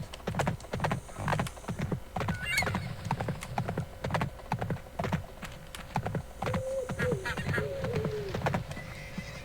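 Horses in the video game Survivalcraft, with steady rhythmic clip-clop hoofbeats running throughout and a couple of whinnies near the middle and end, clear and close in the game audio.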